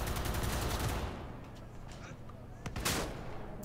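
Rapid automatic gunfire with heavy recoil in the Cyberpunk 2077 video game rattles loudly for about a second, followed by a quieter stretch with a few distant shots and a final burst.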